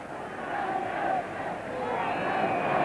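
A huge football crowd of nearly 60,000 at a 1968 UEFA Cup match between Newcastle and Ujpest keeps up a continuous chant of "United", a dense, sustained roar swelling and holding steady throughout.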